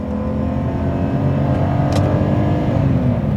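A 2003 BMW 325Ci engine drones steadily and loudly, its pitch rising slowly as it accelerates through the gears, with no voices.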